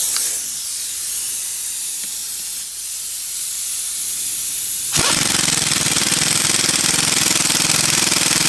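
Impact wrench or air tool running on bolts and nuts at a 2006-2010 Jeep Commander 4.7L all-wheel-drive axle mount, a steady loud hissing whir that jumps in intensity partway through and holds continuously to the end.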